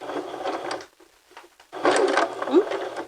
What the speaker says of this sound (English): stitch forward to the edge of that pocket and backstitch